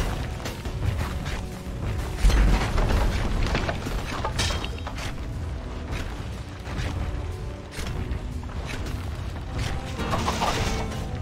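Heavy booms and crashing impacts ring out as a tower in the Dota 2 video game is destroyed, with layered mechanical rumble and clatter continuing loudly throughout.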